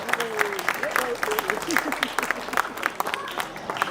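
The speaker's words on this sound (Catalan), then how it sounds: "un fort aplaudiment per tota aquesta gent, per tot este personal sanitari que ens està ajudant dia a dia" Crowd applause for healthcare workers at the opening of the Paüls cherry fair, a scattered clatter of clapping with voices speaking over it outdoors.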